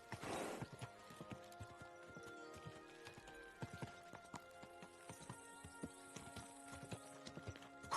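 Horse hooves clip-clop steadily at close range while a horse whinnies near the start, all over a busy soundtrack in the game Kingdom Come: Deliverance 2.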